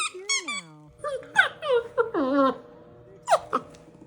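A dog whining close by in a home, a string of high, wavering whimpers and squeaky cries in short bursts with pauses between them.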